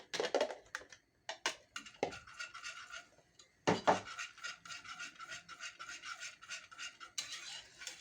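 Arabaşı dough being stirred in a pot on the boil: a spoon scraping and rubbing against the pot in quick repeated strokes with short pauses, close and fairly quiet.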